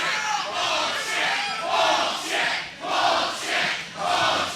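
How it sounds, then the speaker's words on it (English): A wrestling crowd at an All American show roars and boos in rising and falling waves, loud and dense, with no single voice standing out. "The crowd does not like Armani"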